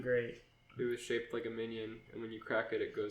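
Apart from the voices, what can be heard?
No everyday noise stands out behind the speech.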